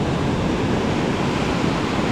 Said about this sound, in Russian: Сейчас прямо обратно такая отливная волна.